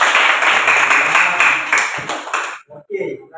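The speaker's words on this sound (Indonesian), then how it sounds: "Tepuk tangan dulu." Classroom group clapping together in a lesson, a dense burst of close, loud applause lasting a couple of seconds before cutting off, followed by brief speech.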